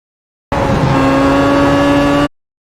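A Williams race car in iRacing at Watkins Glen holds full throttle, its engine a loud, steady, high-pitched roar that cuts in abruptly, sustains at constant pitch for nearly two seconds, then stops dead.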